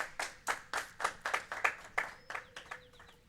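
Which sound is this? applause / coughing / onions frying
applause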